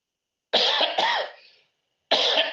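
Two close, harsh coughs in quick succession, the second trailing off, then another cough starts after a short silence.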